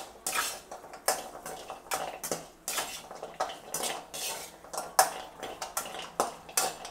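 Dry ginger roasting in a kadai gives a series of sharp metallic scrapes and clinks from a stirring utensil, coming in irregular bursts close by with quiet gaps between.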